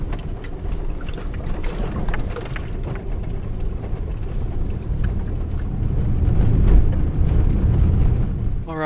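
An SUV drives along a road, with a steady, loud rumble of engine and tyre noise plus buffeting wind across the microphone, swelling slightly toward the end.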